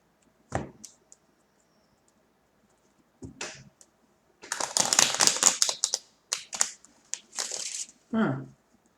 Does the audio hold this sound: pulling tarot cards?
yes